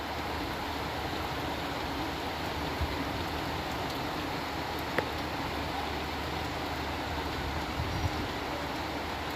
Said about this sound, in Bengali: অঝোর বৃষ্টি পড়ছে।